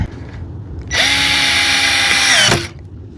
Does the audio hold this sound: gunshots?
no